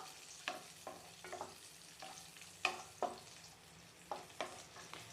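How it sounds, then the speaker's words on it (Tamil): Cashew nuts fry lightly in a pan for Chettinad sweet ukkarai, faint stirring scrapes and short sizzling bursts recurring at an uneven pace over a quiet background. "முந்திரி பருப்பு போட்டு லைட்டாக செவந்து வர வரைக்கும் வறுத்துக்கோங்க"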